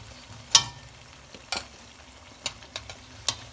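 Potato samosas deep frying in hot oil, with a low steady sizzle broken by occasional sharp pops and a few spoon taps against the pan, heard close and alone.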